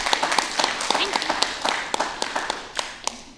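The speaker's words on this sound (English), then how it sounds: "Round of applause." Symposium audience applauds with a dense burst of overlapping hand claps, fairly close and steady for a few seconds, with individual sharp claps standing out.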